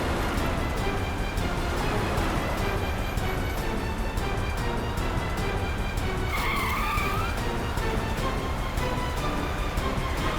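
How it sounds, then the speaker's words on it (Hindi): A car skids and its tires squeal repeatedly as it is driven recklessly in a chase scene from the CID crime drama, a steady, loud rush of engine and tire noise with no speech. "जिस तरह से गाड़ी चला रहा है कहीं किसी को नुकसान ना पहुंचा दे।"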